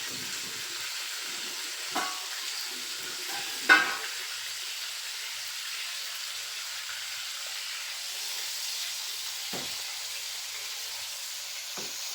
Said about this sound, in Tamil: இதை நம்ம வந்து ஒரு 1/2 பாயில் அளவுக்கு பொரிச்சு எடுத்துக்கலாம்.